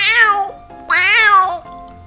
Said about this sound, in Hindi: सब घर के सामने जाकर बिल्ली की हॉर्न बजाने लगा।